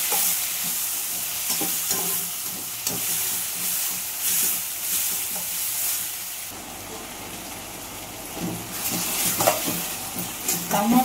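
Tomatoes with rock salt fry and cook down in a pan, a strong hissing sizzle broken by scraping stir strokes, easing midway and then swelling again with renewed stirring.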